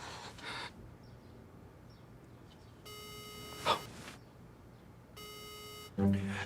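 Telephone keypad dialing tones on a landline or handset: two sustained electronic tone bursts about two seconds apart, each with a brief click, followed by a short rising beep sequence at the end, moderately loud in a quiet room.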